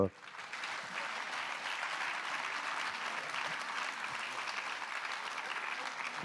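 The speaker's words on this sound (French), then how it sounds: "On peut applaudir nos intervenants" Applause from a national congress audience for a panel of speakers, sustained dense clapping from a large crowd that runs evenly throughout after a brief louder onset.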